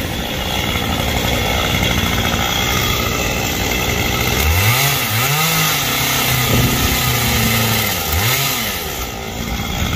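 A chainsaw drones steadily at high revs up in a tree, dipping in pitch as it bites into branches of a Dipterocarp tree twice before revving back up, loud and close.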